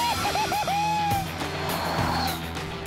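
A Formula E electric race car accelerates hard, its motor whine rising and falling in quick pitch sweeps, then easing into a longer climbing tone over steady rumble and road noise, loud and close.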